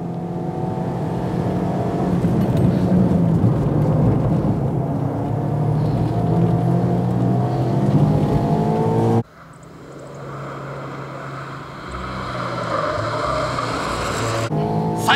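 Race car lapping a circuit at full throttle during a driver audition, engine roaring loud and steady with harmonic sweeps as it accelerates and shifts, briefly dropping before climbing again.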